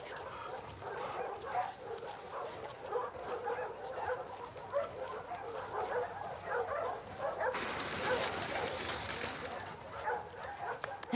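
A dog in The Last of Us Part II gives excited yips, barks and whimpers in a continuous, busy stream, moderately close, with a brief louder burst near the end.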